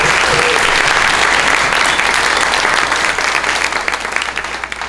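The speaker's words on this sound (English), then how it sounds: "Please give ourselves a round of applause." A crowd at a meeting breaks into a loud round of applause, a full dense roar of clapping that holds steady and then gradually thins and fades toward the end.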